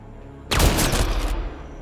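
A loud burst of gunfire in Mass Effect: Andromeda cracks out in a rapid volley lasting under a second, then decays into a lingering rumble.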